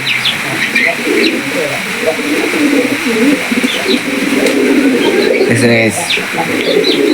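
Farm pigeons coo in a steady, close chorus of low throaty calls with occasional chirps, and a brief rattling flutter near the end.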